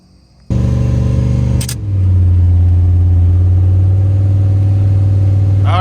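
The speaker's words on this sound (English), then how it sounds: "We're gonna put some fluid in it and get ready to fire this thing up." A car engine cranks and fires up after a transmission reinstall, catching after about half a second with a loud close start, then settling into a steady, strong idle hum.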